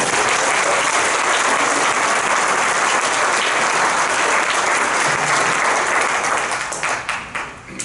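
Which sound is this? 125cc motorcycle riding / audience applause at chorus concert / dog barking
audience applause at chorus concert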